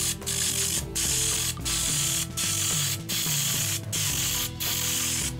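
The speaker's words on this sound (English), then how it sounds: "You need to pump it in order to build up pressure so that you can spray your poster." A pump spray bottle pumped to build pressure, seven regular mechanical ratcheting bursts separated by short pauses, close and clear with no talking.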